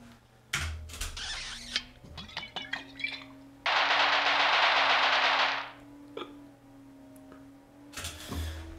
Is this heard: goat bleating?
no